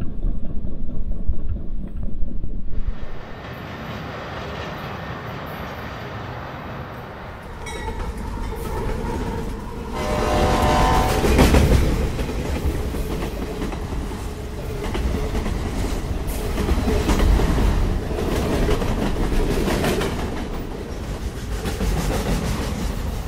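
A train rumbles past nearby for a long stretch, with clattering wheels and metallic screeches rising and fading, loud and continuous.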